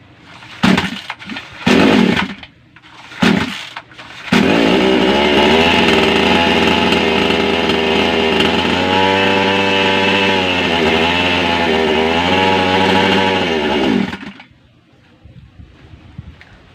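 A few short sputtering bursts from a small two-stroke mini chainsaw engine, then it revs to a loud steady high-pitched whine for about ten seconds before cutting off.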